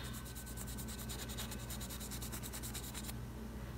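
Nail vinyl is burnished onto a painted fingernail with quick repeated rubbing strokes, a faint, close scratchy swishing in a steady rhythm that stops near the end.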